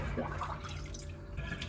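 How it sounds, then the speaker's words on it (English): Water drains from a sink after hand-washing laundry, a brief close gurgling trickle with small drips and bubbling, no voices. "now I need to drain the sink."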